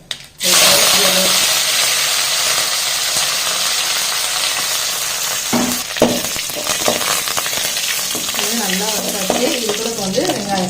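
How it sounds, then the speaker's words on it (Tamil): Mustard seeds splutter and crackle in hot oil for sambar: after a brief quiet start, a loud, dense sizzle fills the pan with scattered popping bursts throughout. "கடுகு ஒன்று பொரிய ஆரம்பிச்சிருச்சு"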